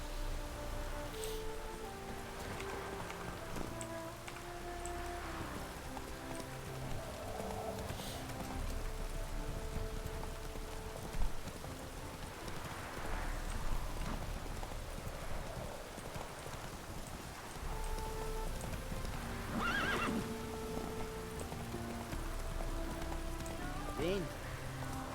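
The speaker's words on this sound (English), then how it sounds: "Magic horse." A horse in the Witcher 3 video game clip-clops along through steady rain, hoofbeats blending with rainfall on surfaces and rustling, the ambience continuous and moderately loud.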